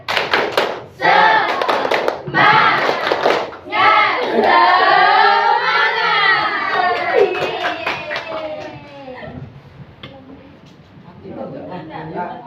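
Students in a class perform the rhythmic Indonesian scout clap, with bursts of hand claps under loud chanting and shouting voices filling the room.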